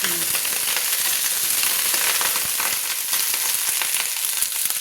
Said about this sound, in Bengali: আমি 2 মিনিট ধরে ফুলকপিগুলোকে লাল লাল করে ভেজে নিচ্ছি